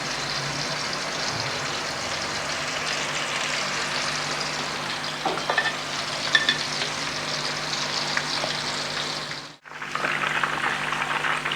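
Nargisi kofte frying in oil over medium heat, a steady close hiss and sizzle with occasional crackles, briefly cutting out near the end before resuming.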